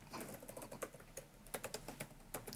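Typing on a computer keyboard during an online AI webinar: quick, irregular clicking keystrokes close to the microphone, with no talking.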